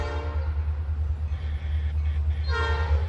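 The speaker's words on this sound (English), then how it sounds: "There's an NS train coming down over there." A Norfolk Southern freight train, an empty coke train led by two engines, rumbles past on nearby tracks with a steady low drone and wheel noise, and a brief horn-like tone rises near the end.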